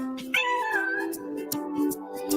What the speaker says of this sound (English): Echoes of a cat letting it be known he wants to hear a xylophone.